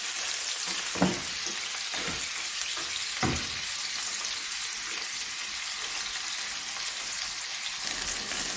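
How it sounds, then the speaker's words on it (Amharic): Steady broadband sizzling of meat frying in a pan, with a few soft clinks and stirring knocks early on; no voices. "ስጋ እንደዚህ ሲጠበስ በጣም ቆንጆ ነው"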